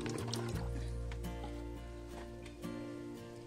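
Liquid fertilizer diluted in water pours from a container onto a potted flowering plant, a soft gurgling trickle with a few splashy bursts, close and quiet, under steady background hum.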